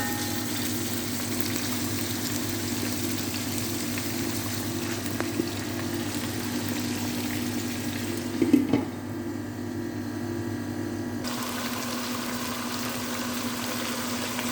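Meat fries in a pan for Arabian biryani with a steady, close sizzle and low bubbling hiss running underneath throughout. A brief clatter comes midway, and part of the sizzle briefly drops away before the sound continues.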